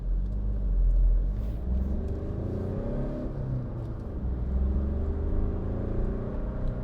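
A 2016 Skoda Fabia 1.4 TDI Monte Carlo diesel holding steady at about 40 mph on its speed limiter, heard from inside as a continuous low engine and road rumble with a slight swell early on, no talking.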